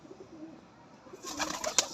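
Pigeons coo softly and low, a gentle throaty murmur, before a brighter rustle of movement near the end.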